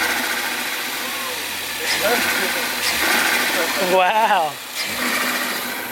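Ford Focus ST engine fitted with a Green aftermarket air filter, idling loudly up close with a steady growl and a couple of throttle blips; a man exclaims over it.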